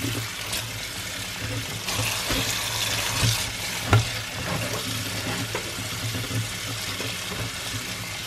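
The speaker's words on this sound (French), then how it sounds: "donc là je vais laver ma petite salade" Running water rinses lettuce and cucumber at a kitchen tap, a steady close splashing wash with small clattering bumps and one sharper knock partway through, no voices.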